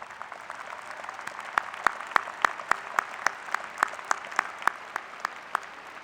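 Audience applause at a university commencement ceremony as graduating students stand, with sharp, evenly spaced claps standing out above a quieter, continuous bed of clapping.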